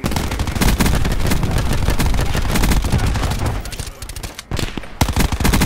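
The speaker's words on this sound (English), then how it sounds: "Throwing cluster grenade." Rapid bursts of gunfire and explosions from cluster grenades in a first-person shooter video game, loud and continuous with dense crackling blasts, briefly dropping near the end before more sharp hits.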